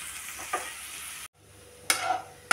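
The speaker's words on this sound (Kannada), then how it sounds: "ಇದಕ್ಕೆ ಒಂದು ಈರುಳ್ಳಿಯನ್ನು ಕಟ್ ಮಾಡಿ ಇಟ್ಕೊಂಡಿದ್ದೇನೆ. ಇದನ್ನೀಗ ಫ್ರೈ ಮಾಡಿ ತೆಗಿತೇನೆ." Sliced onion frying in hot oil for a prawn biryani, a steady sizzle with a few sharp scrapes of stirring. It cuts out briefly partway through, then returns with louder stirring clatter near the end.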